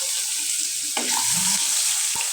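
Sliced onion drops into a pan of frying eggs, a steady hiss of hot oil with a brief burst of louder sizzling as it lands, close and without speech.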